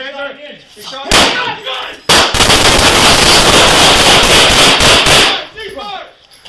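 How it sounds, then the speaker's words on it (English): A rapid, very loud burst of gunshots fires in close succession over several seconds inside a hospital room after a taser is fired, with voices before and after. "The taser is fired, and gunshots explode in the room."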